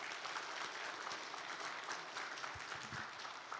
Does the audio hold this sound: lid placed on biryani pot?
no